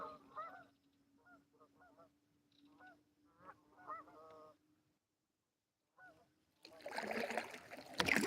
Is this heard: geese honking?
yes